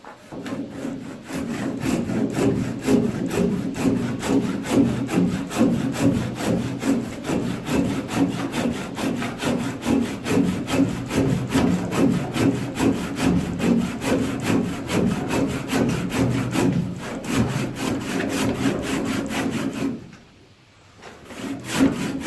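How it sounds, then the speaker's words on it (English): A handsaw works through a dense wooden chine log for a boatbuilding fit-up, its strokes close, loud and steady in a rhythmic back-and-forth for about twenty seconds before a brief pause near the end of the cut. "So now I'm just going to pick up my handsaw and we'll go through"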